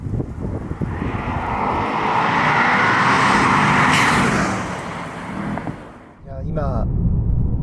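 A 2025 Aston Martin DBX707 SUV driving in GT mode on Hakone roads, with a sustained engine and road roar that swells, eases off, then briefly dips before rising again.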